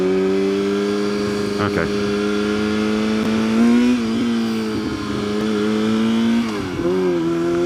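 A Ducati Monster motorcycle runs with a steady, droning engine note whose pitch edges upward, then dips and recovers near the end, heard up close under brief talk.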